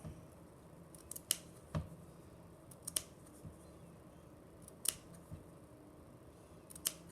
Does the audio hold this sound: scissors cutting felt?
yes